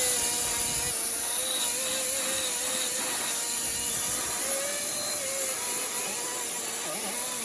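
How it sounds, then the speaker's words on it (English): Corrosion is scrubbed and scraped off the inside of a Chevy Cruze front wheel bearing hub: a continuous gritty rubbing under a wavering whine, steady and close, with no talk. "now we're going to clean the inside, get rid of some of that corrosion"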